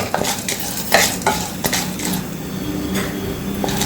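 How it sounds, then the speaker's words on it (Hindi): Chana dal being stirred and dry-roasted in a pan over a low flame for homemade sambar masala powder: repeated scraping and clinking of the spoon against the pan, close and steady, with no talk. "इसमें हम ये चना दाल डाल देंगे। हल्की इसको हल्की आंच पर हमको इसको भूनना है।"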